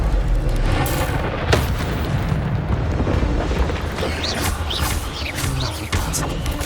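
The Incendio fire spell in Hogwarts Legacy, a rushing whoosh with a deep booming burst and crackling roar, loud and close, with faint chirping flourishes near the end.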